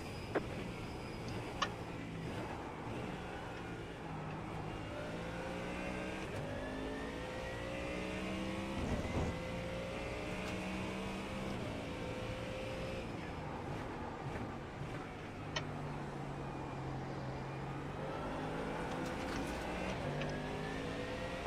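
A race car engine in a 24 Hours of Daytona racing video game, car 911, revs continuously and loudly, its pitch sweeping up and down through gear changes for the whole stretch with no talk over it.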